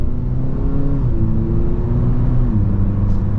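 A 2021 Acura ILX's 2.4-liter engine with an 8-speed automatic hums steadily as the car picks up speed, a smooth low drone with rising tones and road noise, heard from inside without talking.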